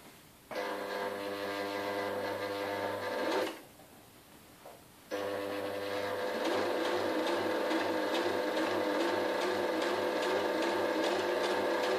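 A sewing machine whirs in steady, buzzing runs of stitching, pausing for a couple of seconds before starting up again and continuing evenly.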